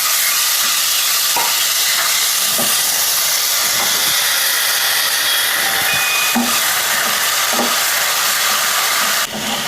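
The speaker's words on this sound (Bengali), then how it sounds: "কিছুক্ষণের জন্য এটাকে আমি তেলে ভাজছি" Ginger, garlic and mustard paste frying in oil makes a loud, steady hiss and sizzle close by, broken by occasional soft taps from stirring, with no voices.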